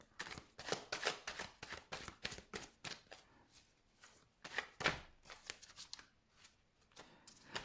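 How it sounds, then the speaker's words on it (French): Stiff True Black Tarot cards being shuffled, a run of quiet crisp riffles and slaps in uneven bursts, close but faint, with no talk. "les True Black Tarot, c'est les cartes les plus difficiles que j'ai là à battre"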